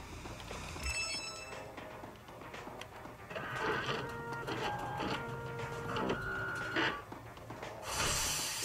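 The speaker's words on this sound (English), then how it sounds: "sounds like a real printer" A 3D printer running in the video game Watch Dogs 2, giving a steady mechanical whirring with shifting stepper-motor tones over several seconds, under a faint game soundtrack.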